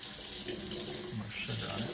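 Tap water runs steadily as an item is rinsed under it, a continuous close splashing stream with no talk.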